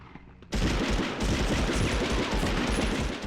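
Rapid automatic gunfire from the 1999 video game Medal of Honor erupts after a brief quiet moment, a loud, dense burst of shots that continues without pause until the end.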